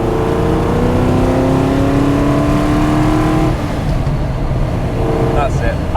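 A 400hp NASCAR-engined AC Cobra Coupé revs up through rising tones, then drops pitch as it downshifts, loud and close, with a voice briefly heard near the end.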